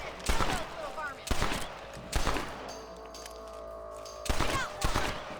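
Rifle shots ring out in the Red Dead Redemption video game, about five loud, sharp cracks spaced unevenly over a few seconds with ambient game sound between them.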